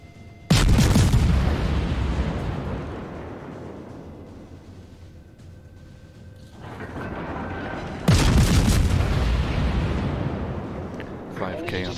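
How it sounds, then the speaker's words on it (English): Royal Navy cruiser Edinburgh fires its guns at a battleship in World of Warships, with two loud booming salvos several seconds apart, each decaying into a long rumble, and a quieter blast between them. "See if I can get some fire on this battleship"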